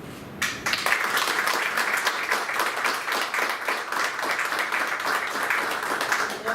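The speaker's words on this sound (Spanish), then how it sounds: "Voy a pedir un aplauso para el archivo" A conference audience applauds the archive staff, sustained dense clapping that starts abruptly and stays fairly loud to the end.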